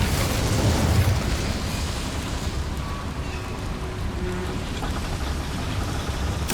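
An Incendio fire spell is cast in Hogwarts Legacy, giving a loud, dense roar of flame and crackling bursts that fills the whole stretch without a break.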